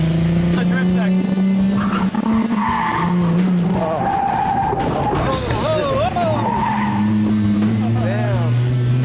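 A car drifts through a drift section, tires skidding and squealing in long wavering bursts over a steady, revving engine, loud and close, with people talking over it.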